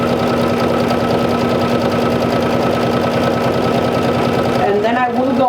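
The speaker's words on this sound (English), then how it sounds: "So I'm stitching away from the top." A sewing machine runs steadily while stitching a 1-inch hem on a vintage jumper, a continuous close mechanical hum with rapid needle rhythm that stops near the end, leaving faint scraping of fabric.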